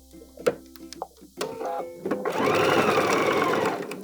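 A sewing machine stitches a fabric purse, starting with a few short clicks and bursts before settling into a loud, continuous mechanical whir up close, with no talking.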